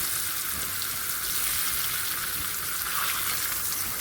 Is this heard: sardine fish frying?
yes